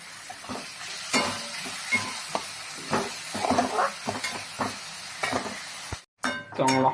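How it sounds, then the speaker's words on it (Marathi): Onion and rice being stirred in a pan for kandapat bhaji, with irregular scraping and clinking strokes over a soft background sizzle, close and moderately quiet, a brief louder rattle near the end. "चांगला हलवून घेऊया."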